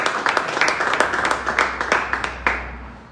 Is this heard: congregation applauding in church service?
yes